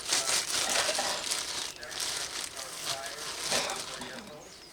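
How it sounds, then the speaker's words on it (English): A plastic freezer bag crinkles and rustles close by as pulled pork is put into it, with a busy, uneven crackling texture that rises and falls throughout. "So I'm going to put it in this freezer bag."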